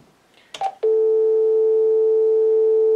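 A telephone dial tone from a line on a VoIP adapter comes on as a steady, continuous hum and holds unbroken to the end, after a few brief clicks and beeps from the handset.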